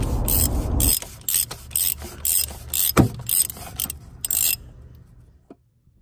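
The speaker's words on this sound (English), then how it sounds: "In order to do so, you're gonna have to use a 24mm socket." A ratchet turning a 24mm socket to remove the plastic cover on a Jeep Wrangler during an oil change, a run of short clicking strokes in quick rhythm, close up, ending in silence.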